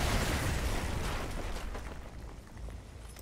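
Heavy artillery strike explosions in the Modern Warfare 2 video game, a loud continuous rumbling roar of blasts that gradually thins out, with no talk over it.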